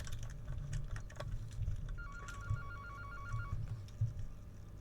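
An old-style telephone rings inside the horror video game Baby in Yellow, set in a childcare building: a rapid electronic trill repeating in short bursts over a low rumbling ambient drone, with scattered clicks and thumps.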